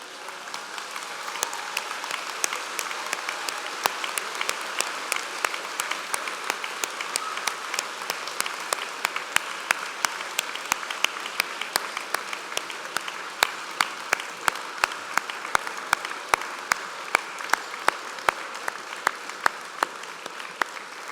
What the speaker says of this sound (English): give them the round of applause they deserve.